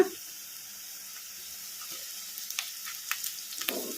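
Green chillies and curry leaves drop into onions frying in a pan, giving a steady faint sizzle with a few soft clatters and stirring bumps toward the end.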